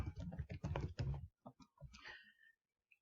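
Keys tapped on a computer keyboard while entering a search for a browser extension, a short burst of light clicking keystrokes close to the microphone, trailing off into quiet.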